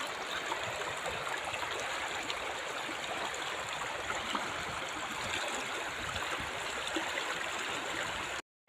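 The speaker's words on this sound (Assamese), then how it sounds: "এনেকুৱা জিৰি জিৰি নদীৰ শব্দ শুনিছেনে আপোনালোকে?" A gently flowing river stream runs near a bamboo bridge on a hillside, its steady broadband rush of water continuous and even throughout before cutting off abruptly at the very end.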